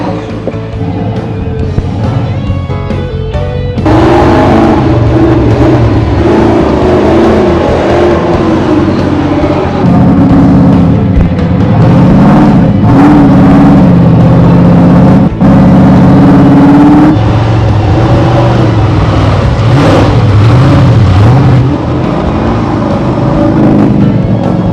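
Off-road truck with a 426 Ford V8 revving hard on a dirt trail at a truck challenge, loud, close and sustained, the engine note climbing and falling through repeated bursts of throttle.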